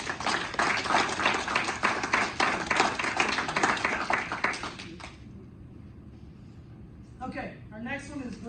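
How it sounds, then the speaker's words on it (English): A brief round of applause for a high school bowling team at a school board meeting, steady indoor clapping for about five seconds that stops abruptly before a voice resumes speaking. "So please give them a round of applause"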